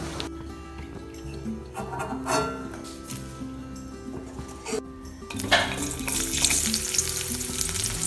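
Curry leaves fry with dried anchovies in a hot pan, a steady close sizzle broken by scraping stirs and light metal clinks of a utensil against the pan, with the frying growing louder toward the end.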